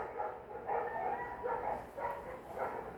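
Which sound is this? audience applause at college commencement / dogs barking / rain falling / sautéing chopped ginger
dogs barking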